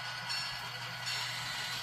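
A locomotive in a rail yard gives off a steady, loud mechanical hiss and low rumble, continuous and close, with no speech over it.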